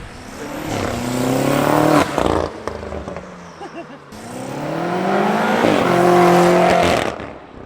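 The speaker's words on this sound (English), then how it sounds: "that's all you hear is just turbo spool. It sounds good." A turbocharged BMW M5 engine revs up twice with a rising whine and whoosh as the turbo spools, loud and close, dropping off between pulls.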